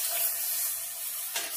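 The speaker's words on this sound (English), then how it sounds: "I'm gonna let this saute for a few minutes" Food sautéing in a pan for Jamaican escovitch fish, a steady hiss of sizzling oil with a brief louder crackle near the end, close and continuous without talking.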